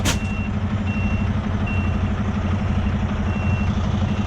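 A semi truck maneuvering while stuck during a turnaround, its engine rumbling low and steady close by as a reversing alarm beeps at a regular interval over it.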